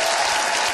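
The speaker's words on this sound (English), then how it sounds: "Give them a round of applause." Brief, dense burst of studio audience applause on a Take Me Out Ireland dating show, loud and continuous throughout.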